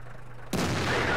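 Tank shell from a World of Tanks match striking armor and bouncing off, a sudden sharp boom breaking into a loud sustained crashing roar, with no talk.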